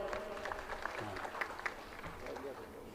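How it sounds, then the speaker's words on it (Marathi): An audience claps hands at a kirtan religious gathering, a soft dense patter of applause under a speaking voice, fairly distant and low in level. "टाळी वाजवायच्या नावाने एकदा"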